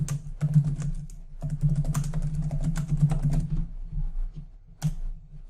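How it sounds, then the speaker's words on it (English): Typing on a computer keyboard while writing a document in Microsoft Word: a steady patter of close key clicks, pausing briefly and then resuming with a few final taps. "I could hit the Enter key and that will take me down to the next line and I can carry on typing again."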